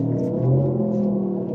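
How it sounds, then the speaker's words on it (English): A 2023 Genesis electric car held in neutral plays a synthetic virtual engine sound as it is revved, a loud, smooth tonal hum that swells briefly then holds steady, with no voices. "And along with the virtual gear shift, there's a virtual engine noise."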